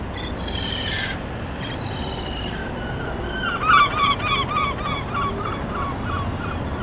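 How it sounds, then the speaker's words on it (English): Seagulls call loudly over a busy port as cruise ships depart, with repeated harsh cries and a flurry of overlapping squawks over steady harbour rumble. "Seagulls whizzing around."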